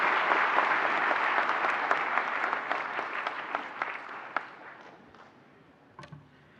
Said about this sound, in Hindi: तालियों से स्वागत करें माननीय मंत्री महोदय का।